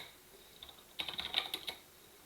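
Rapid typing on a computer keyboard to save and quit the Vim editor, a quick burst of close, crisp key clicks lasting about a second after a few faint taps, with no talking.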